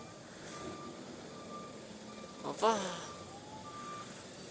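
A truck's reversing alarm sounds as faint, evenly spaced electronic beeps behind steady traffic noise, with people talking over it.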